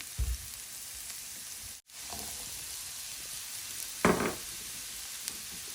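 Potatoes go into hot oil already holding onion and salt, producing a quiet, steady sizzle with two brief louder bursts of stirring, one near the start and one toward the end.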